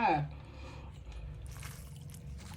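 Someone bites into spicy stir-fried squid with rice noodles and shrimp, then chews it up close with soft, wet crunching and squishing sounds. A short voice is heard at the very start.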